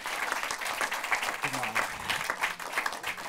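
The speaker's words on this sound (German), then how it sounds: "Euer Applaus." Audience applause at a film festival screening, dense steady clapping from a crowd in a hall, with a voice briefly speaking over it midway.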